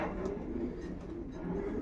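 Pigeons cooing in a loft, soft low repeated coos, with males kept apart from females, faint and close against a quiet background.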